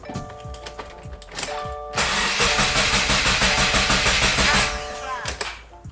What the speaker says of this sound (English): we're gonna go ahead and try cranking it over a few times just to make sure that we got all the fuel out